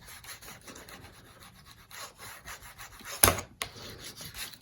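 Paper being burnished down in a mini album, soft repeated rubbing strokes close by and faint, with one sharp tap or knock near the middle.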